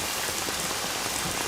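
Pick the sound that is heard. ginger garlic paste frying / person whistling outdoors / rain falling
rain falling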